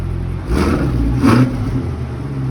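A 2023 Chevy Corvette Stingray's mid-engine 6.2-liter V8 rumbles nearby with a low idle, broken by two quick blips of the throttle that swell and fade before it settles again.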